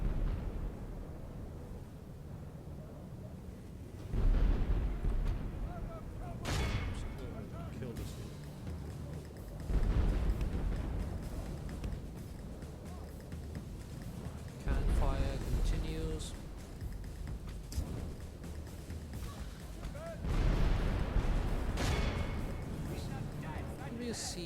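Cannon artillery volleys boom in Medieval II: Total War, loud bursts recurring about every five seconds over a continuous battle din, with a voice talking throughout.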